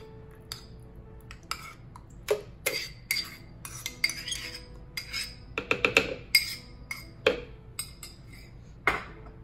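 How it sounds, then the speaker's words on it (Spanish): Yogurt being spooned into a blender for a green breakfast juice, a series of close, sharp clinks and taps of a spoon against the container, irregular and scattered over several seconds. "Lo primero que voy a agregar aquí es el yogur."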